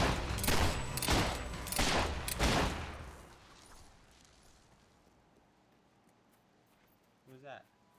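Gunfire in the Fable 3 video game: dense, loud bursts of rapid shots for about three seconds that fade into quieter ambience, with a brief voice-like sound near the end.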